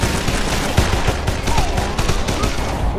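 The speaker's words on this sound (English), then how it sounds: "They're shooting you through the bushes." Enemy gunfire in the shooter game Call of Juarez: The Cartel, a dense, continuous crackle of overlapping shots at steady loudness across the whole stretch, with a few sharper bursts standing out.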